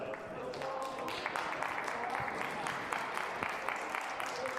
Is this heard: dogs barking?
no